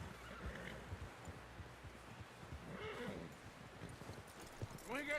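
Horse hooves clip-clop in the video game Red Dead Redemption 2, quiet and distant under urgent shouting voices, with a horse neighing and snorting toward the end.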